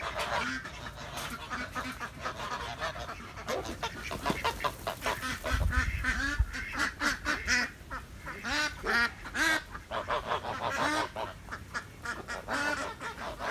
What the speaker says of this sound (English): And then I let out the ducks and geese.